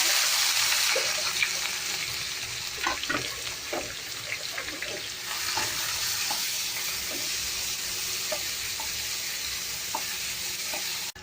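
Onions fry in a pan for rajma, giving a steady close sizzle with scattered stirring scrapes and clicks throughout, with no voices.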